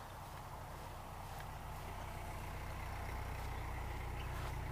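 A canal boat engine idling on the Grand Union Canal gives off a steady, low, throbbing chug at moderate distance, constant throughout with faint outdoor ambience and no talk.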